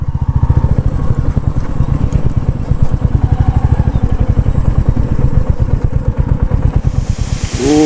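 A motorcycle engine runs close and loud with a rapid, steady pulsing throb on an off-road ride toward the Sitakunda waterfall, never letting up for the whole stretch.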